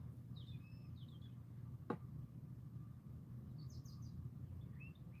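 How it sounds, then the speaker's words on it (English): Faint bird chirps and short whistled calls over a low steady hum, with one brief sharp click partway through. "Them birds sound so beautiful."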